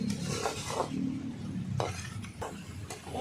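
Mustard paste being sautéed for a Nile tilapia curry gives a soft, continuous sizzle, broken by a few scraping stirs of a spoon against the pan, close by with no talking.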